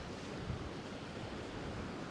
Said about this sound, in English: See how windy it is.